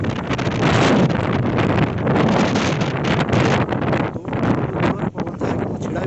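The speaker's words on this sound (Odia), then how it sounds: "ପବନ ଯାହାକି ମୁଁ ଛିଡ଼ା ବି ହୋଇପାରୁନି ଏଠାରେ" Strong Cyclone Yaas wind roars through a flooded village in Bhadrak district, Odisha, a loud, constant buffeting rush across the microphone that holds for six seconds with brief dips near the end.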